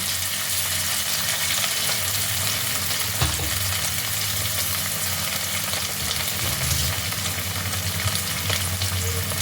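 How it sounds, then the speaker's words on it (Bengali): Leftover potato pieces fry in hot oil in a wok for a stuffed Kashmiri aloo dum, giving a steady, close sizzle throughout with faint stirring clatter, and nobody speaking. "তার জন্য কড়াইতে তেলের মধ্যে দিয়ে দেব এক্সট্রা আলুগুলো"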